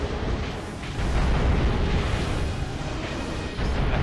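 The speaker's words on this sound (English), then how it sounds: "The cannons are hard to avoid, I find." Cannon fire in the video game Drakengard: a loud, continuous wall of rumbling explosions with heavy booms layered close together and no gaps, with no voices.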